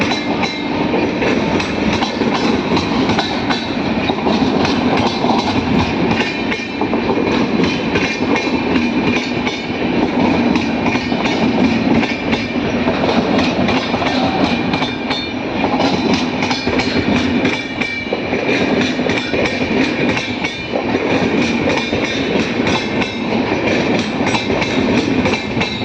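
A WAP 7 electric locomotive hauls the Anga Superfast Express into Krishnarajapuram railway station, a loud continuous roar of rolling wheels and rhythmic clatter that stays close throughout, with no talk.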